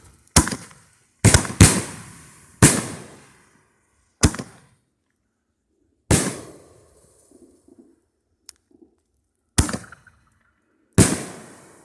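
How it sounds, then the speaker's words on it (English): Doom firework shells launch from an 18-shot fan rack, each one a sharp, loud bang followed by a decaying rumble, firing irregularly about eight times with faint crackling between. "Them Doom shells are awesome."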